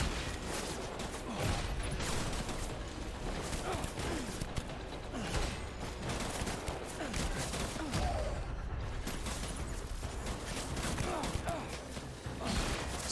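Rapid gunfire from the video game Death Stranding, dense overlapping bursts of shots that run almost without pause, with excited voices shouting under and between the shots.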